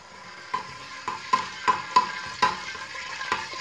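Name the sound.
whole cumin seeds sizzling in hot oil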